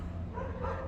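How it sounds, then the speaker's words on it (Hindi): Several pet dogs bark from downstairs inside a house, heard from the third floor, muffled and fairly faint, as a steady stretch of yapping. "नीचे से जो आवाज़ आ रही है मेरे घर में से मेरे कुत्तों की आ रही है"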